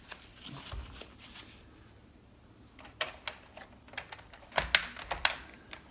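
Keycaps being pried off an Epson T026A keyboard during a teardown: a scatter of sharp plastic clicks and snaps, sparse early then bunching into quick close bursts near the end, with no talk.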